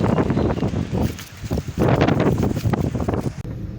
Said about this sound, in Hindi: हवा चल रही है सर तेज़, लेकिन बारिश रुकी है।